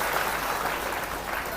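Congregation clapping during a Hindi Christian church service, a dense, continuous wash of hands filling the hall, fairly quiet and steady.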